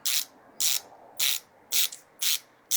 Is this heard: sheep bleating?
no